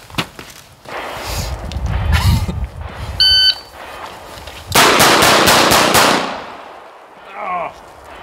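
A Colt Python 2020 revolver with a 3-inch barrel fires six quick sharp shots in rapid succession outdoors, preceded by a timer beep and scuffling, with loud cracks close by and no talking over them.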